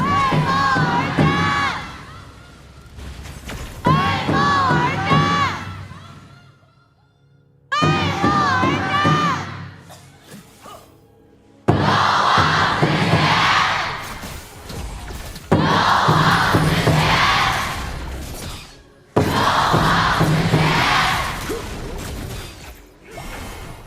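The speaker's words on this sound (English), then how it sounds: "Even the fans are coming out in full force for the side of AG. That was a very loud cheer." Esports fans at the KPL Grand Finals knockout stage roar in repeated loud bursts of cheering and shouting, swelling and dropping back in waves several times, with occasional sweeping whooshes between surges.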